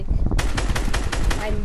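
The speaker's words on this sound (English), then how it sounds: "I'm shooting my own wall." In a shooter video game, a rapid automatic gunfire burst fires about eight evenly spaced shots, loud and close, after a short moment of low noise.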